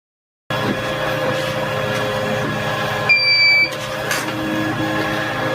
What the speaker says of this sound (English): the inverter is starting to beep because it's getting low voltage